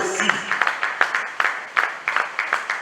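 A congregation at an Easter celebration claps together in a steady rhythmic beat, close and lively, with voices mixed in.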